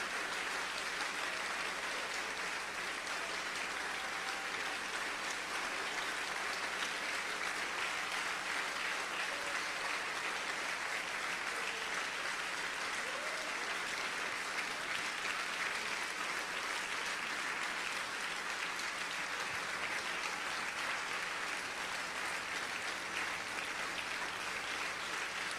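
Congregation applauding in a church service, a steady dense wash of many hands clapping that runs unbroken and fairly far off, with no distinct voices above it.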